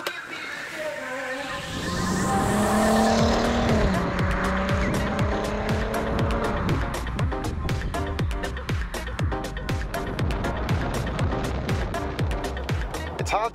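A 2008 Volkswagen Golf R32 Mk5 revs and pulls away, its engine note rising loudly through the gears and then settling into a steady, close drone with a dense rattling texture, and a voice is heard briefly over it.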